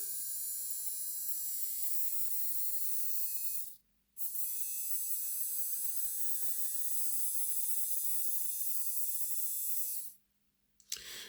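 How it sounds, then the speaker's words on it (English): The small electric motor of a Bachmann WD 2-8-0 Austerity model locomotive runs off a battery with a thin, steady high whine, stopping briefly twice when the contact is broken before resuming, close and without talking. "Let's just see what happens when we put a battery on the motor terminals."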